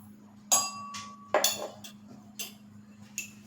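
Sugar and lemon salt (citric acid) pounded with a pestle in a mortar: a few sharp metallic clinks and knocks spaced apart, with a faint steady hum underneath.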